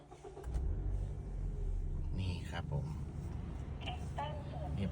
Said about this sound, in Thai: เดี๋ยวเรา สตาร์ทรถเช็คกันเลย